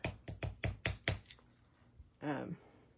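Soft copper wire being struck with a hammer to texture and harden it: six quick metallic taps in an even rhythm, close and clear, followed by a brief pause and a muffled scrape.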